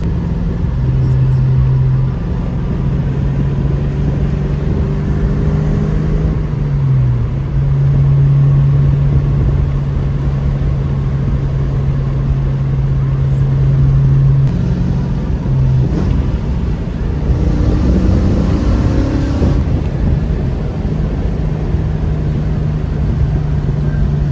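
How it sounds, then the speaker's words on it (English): A Ford Foxbody Mustang engine idles steadily up close, a continuous low rumble with a sustained hum that shifts slightly in pitch, loud and unbroken throughout. "So let it idle for 2 minutes"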